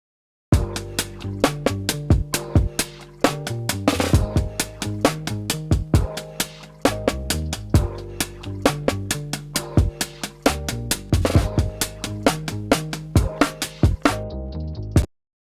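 A looping hip-hop beat thumps with punchy drums and layered percussion hits over a repeating melodic pattern, steady and loud, ending abruptly.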